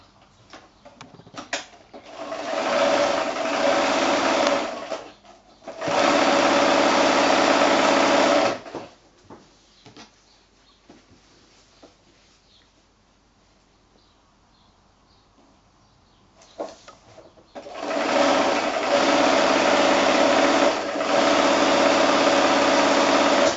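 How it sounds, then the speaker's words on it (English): A sewing machine stitches along a line on quilt fabric for a wonky triangle block, its steady whirring motor heard close in three loud bursts of sewing separated by a quieter pause. "now I'm just going to sew along that line there"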